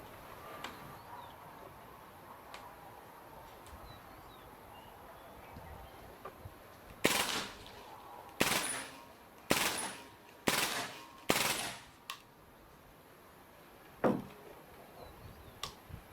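Hatsan Blitz .22 full-auto airgun firing a magazine outdoors, a rapid run of five loud sharp cracks followed by a single later shot, with a few faint ticks before and quiet ambience between.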